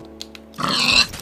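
A pig in the Minecraft video game gives a short grunting oink, a single brief burst after a few faint ticks, close and clear with no talk.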